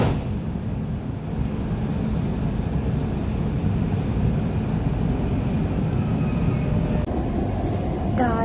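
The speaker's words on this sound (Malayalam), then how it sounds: "നെക്സ്റ്റ് മെട്രോ വന്നു. അങ്ങനെ മെട്രോയിൽ കയറി." Inside a moving Dubai Metro train, a steady low rumble and whoosh of the carriage runs continuously, with faint chimes near the end.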